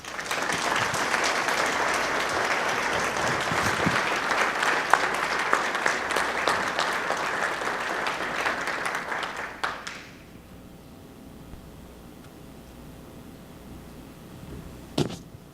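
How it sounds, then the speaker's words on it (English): Audience applause for 2011 manufacturer award winner Cooper Industries, a loud sustained crowd clapping for about ten seconds before fading to quiet room tone, with one sharp knock near the end. "Please help me in applauding the 2011 manufacturer winner"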